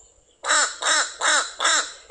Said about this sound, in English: And even their caw sound is a little bit more nasally, as you can detect.